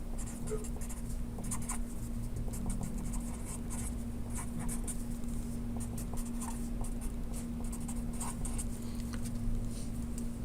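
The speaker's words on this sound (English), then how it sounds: "Let me write it down on the paper." A pen scratches steadily on paper during a lecture on MOSFET transistors, with continuous scribbling strokes and small taps over a constant low electrical hum, close and fairly quiet, with no talk.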